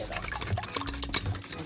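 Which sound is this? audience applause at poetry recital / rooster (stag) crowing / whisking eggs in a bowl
whisking eggs in a bowl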